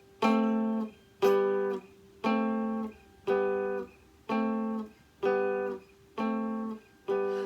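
A twangy three-string cigar box guitar chord from a song lesson is sounded eight times at an even pace. Each chord rings briefly before the next, with no voices.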